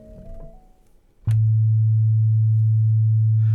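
Manatee synth plays a soft stepped tone. After a sharp click, a loud, steady, pure low FM tone holds without interruption and with no voices.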